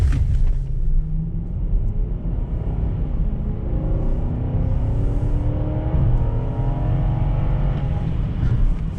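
A Lexus LS430's V8 engine roars hard and steadily under load, a deep rumble with rising tones as the car accelerates in Germany, close and loud throughout.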